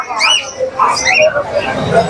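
Birds at a pet market give a run of shrill, close squawks and chirps, bright and irregular, with people talking nearby.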